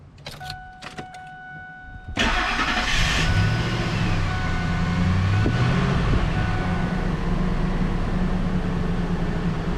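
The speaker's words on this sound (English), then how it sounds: "So I'm going to be starting up the engine." A 1999 Ford Expedition's engine cranks and catches at about two seconds, then settles into a steady, loud idle that carries on to the end, after a few faint clicks and chimes from the cab.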